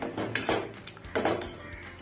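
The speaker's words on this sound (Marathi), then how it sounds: "मी हे वाटाणे आहेत ना आपले उकडलेले ते मी याच्यात ओतणार आहे" Boiled peas tipped from a container into a pan where turmeric has been frying, giving several soft metallic clinks and scrapes of pots and utensils, close and moderately loud with no talk.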